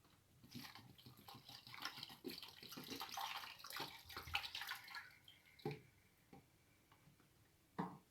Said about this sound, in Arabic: صافي غادي نزيد عليها اطرو ديال الماء معبور